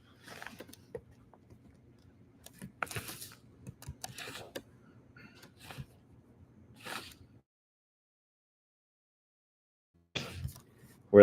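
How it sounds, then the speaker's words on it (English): Sparse keyboard clicks in short bursts over a low steady hum, tapped quickly at a computer keyboard, then a few seconds of silence before another brief cluster of keystrokes. "press the right buttons on my keyboard."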